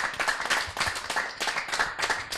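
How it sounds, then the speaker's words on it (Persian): A children's audience at a Mawlid celebration claps in rhythmic, roughly unison bursts, close and fairly loud, with brief pulses repeating throughout. "تشکر از تشویقتان"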